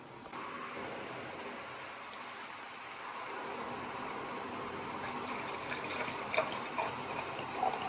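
Chianti red wine pours from a bottle into a glass in a home kitchen, a steady close liquid trickle that runs for several seconds and rises slightly in pitch near the end.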